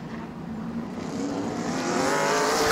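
Race cars at Auburndale restart on the green flag, a pack of engines droning and building steadily in volume as they accelerate, heard from some distance with no talk.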